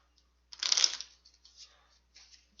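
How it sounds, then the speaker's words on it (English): Playing cards riffled together for a Zombicide board game, one quick burst of fluttering shuffle followed by a few soft taps as the deck settles. "One more shuffle."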